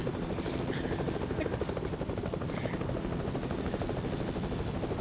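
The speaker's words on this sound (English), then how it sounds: "I see the helicopter going for you." A helicopter in the video game Fortnite approaches with a steady, loud rotor drone and mechanical whir that stays constant throughout, with no talk over it.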